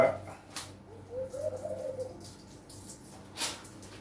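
A soft bird call sounds once, faint and at a distance, over quiet background with a few brief rustles.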